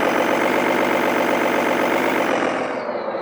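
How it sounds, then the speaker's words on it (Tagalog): A simulated motor sound from an RC truck's sound and light system, a steady loud engine-like drone with a mechanical pulse, close and continuous before trailing off slightly at the end. "kunyari ito yung motor"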